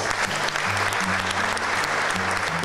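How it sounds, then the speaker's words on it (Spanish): Strong crowd applause at a church celebration in Metapán for the parish priest, steady dense clapping throughout with a low hum of music or voices underneath. "Regálanos un fuerte aplauso."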